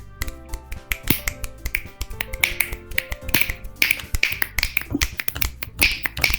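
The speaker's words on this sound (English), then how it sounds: "remember poetry snaps" Rapid finger snapping in a video game, many crisp snaps overlapping in an uneven patter over a soft musical background.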